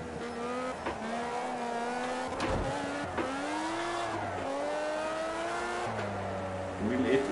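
Race car engine in Project Cars 2 (patch 2.0) revving through rising and falling gear pitches with tire squeal, loud and continuous over roughly seven seconds, a voice talking over parts of it.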